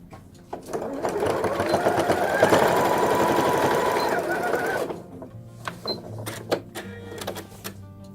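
Home sewing machine stitches a string eco bag in a fast, steady mechanical whir lasting about four seconds, then stops, followed by sparse clicks and handling of fabric, with no talking.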